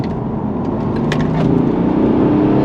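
BMW 330d xDrive Touring with a tuned N57 diesel engine at full throttle, a loud steady drone that swells slightly as it pulls, heard from inside the car with no talk.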